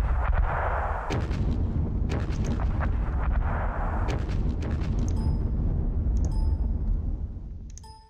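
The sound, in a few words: mortar fire in Panzer Battles video game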